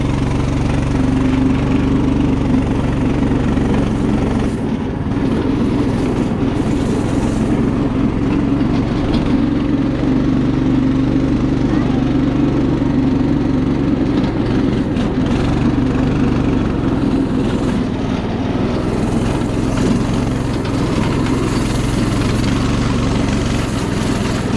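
A Yerf Dog go-kart fitted with a swapped-in Coleman engine runs steadily, a loud, rough small-engine drone holding a constant pitch for the whole stretch, with no talk over it.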